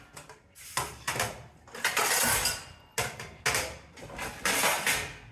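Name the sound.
cooking pots and utensils being taken out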